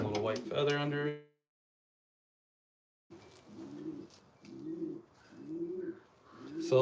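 Pigeons coo in a loft in rhythmic, low repeated phrases after a pause, following a brief stretch of someone talking at the start.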